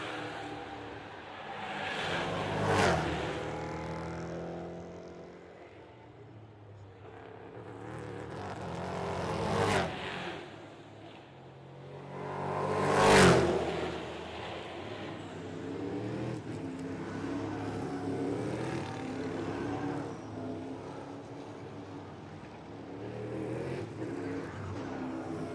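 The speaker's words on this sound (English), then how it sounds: "Great to hear those big V8s rumbling around this circuit." NASCAR Euro Series V8 race cars lapping Circuit Zolder during qualifying: loud engines roar past close by in three distinct surges, with a steady rumble of more distant cars between them and no talk.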